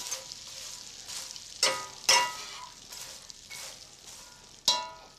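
Rosemary butter sizzles steadily in a hot pan, a bright crackling hiss broken by sharper spattering bursts as it is stirred, close and fairly loud with no talking.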